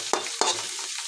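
Onions frying in a pan on a gas stove, under a steady sizzle, with three quick scraping stirs of a spoon in about a second.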